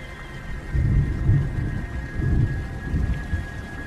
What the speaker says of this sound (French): J'entendis à nouveau le roulement du tonnerre.